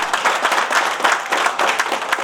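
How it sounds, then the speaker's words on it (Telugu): Audience applause fills a hall after a call to cheer a managing director, with dense, steady clapping sustained throughout at a fairly loud, even level. "ఒకసారి ఎండి గారికి గట్టి చప్పట్లు."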